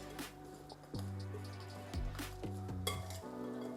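Chicken wings being tossed with salt, pepper, onion powder, garlic powder and cayenne in a bowl, with a few clinks and knocks of utensil on dish and soft wet mixing, close and fairly quiet, no voices.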